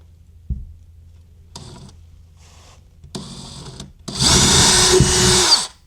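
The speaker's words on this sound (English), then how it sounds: "So let's get to drilling." A power drill whirs in short bursts, first light and intermittent, then a longer, louder grinding run as it bores into a wall.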